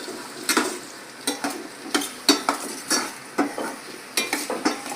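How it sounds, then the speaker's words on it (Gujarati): Onions, tomatoes and potatoes fry together in a pan for pulao, with a soft sizzle beneath repeated sharp scrapes and clinks of a spoon stirring against the metal, close and irregular. "બધું હારે કકડાઈ નાખીએ તો મસ્ત કકડે છે"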